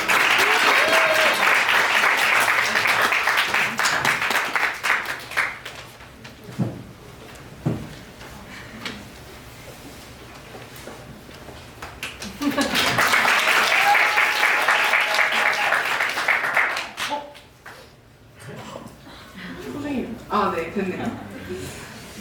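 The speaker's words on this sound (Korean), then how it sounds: "박수" Audience applause at a children's book presentation event in Korea, two bursts of sustained clapping separated by a stretch of talking, with voices again near the end.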